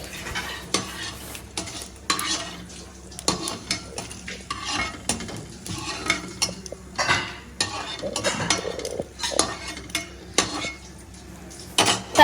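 Fried ingredients for a tomato chutney being scooped from a pan onto a plate: intermittent metallic scrapes and clinks of a spoon against the pan, with a soft sizzle underneath, close and moderately loud.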